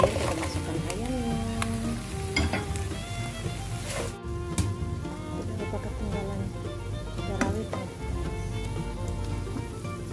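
Chicken pieces dropped into a pan with tomato and sweet chili sauce crackle and sizzle steadily, a soft spattering hiss with scattered pops and clinks of utensils, fairly faint.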